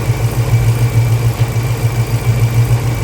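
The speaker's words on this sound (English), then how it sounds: "The fan is on right now, it's spinning." Car engine idles steadily, running slightly hot, with its radiator cooling fan spinning, giving a constant low rumble and a whirring hum that stay loud and unbroken throughout, with no talking.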